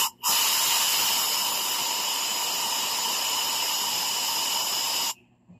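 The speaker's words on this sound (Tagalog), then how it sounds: "Tapos bugahan natin ng hangin ang intake at saka exhaust." Compressed air blown into the exhaust port of a Yamaha Mio i 125 scooter engine makes a loud, steady hiss lasting about five seconds, starting and stopping abruptly.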